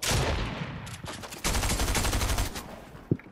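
SMG gunfire in a video game, rapid bursts of loud, close automatic shots in two runs with a short gap between, ending with a single sharp impact.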